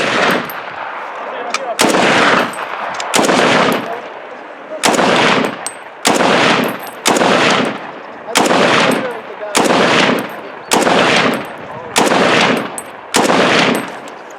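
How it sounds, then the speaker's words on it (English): Bursts of rifle fire from a PE57 in 7.5 Swiss caliber ring out alone, loud and close, roughly ten distinct volleys spaced about a second apart, each a sharp rapid string of shots with a brief decaying tail. "firing the PE57 was a very enjoyable experience"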